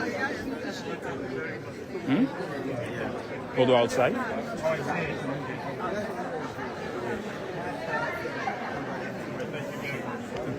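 Crowd chatter fills a Sierra Leone celebration of joining the UN Security Council, a dense babble of many voices with a few louder bursts, while one nearby person briefly speaks over it.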